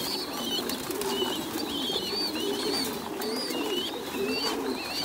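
Domestic pigeons coo in a low, repeated rolling murmur at close range, with brief wing flaps and shuffling mixed in, the whole flock sound holding steady from start to finish without speech.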